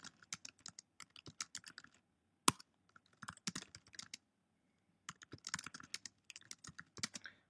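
Fingers type on a computer keyboard in quick bursts of sharp clicks with short pauses between runs, close and clear in a quiet room.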